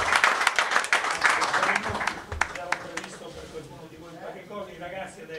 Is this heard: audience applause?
yes